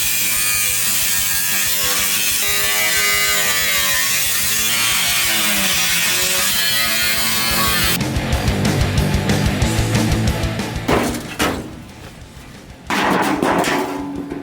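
A Sawzall reciprocating saw cuts rusty truck metal near the fenders, a loud close buzzing whine that runs continuously, then breaks into clattering jolts and bangs as the blade works through.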